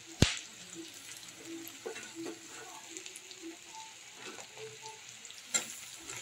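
Ginger and garlic frying in a pan with fried onions for mutton curry, a steady low sizzle with occasional stirring scrapes and a couple of sharp clinks, close and fairly quiet with no talk.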